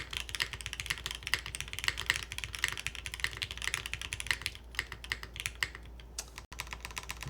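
Rapid, steady typing on a custom S100 mechanical keyboard built without a plastic window, with dense clacky keystrokes close to the mic and a brief pause near the end, no talking.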